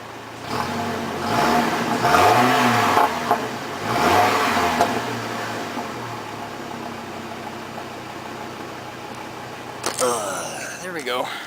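A Chevy Colorado truck engine, cold, revs twice from the muffler with rising and falling pitch, loud and close, then settles to a steady idle; a sharp mechanical clatter comes in near the end.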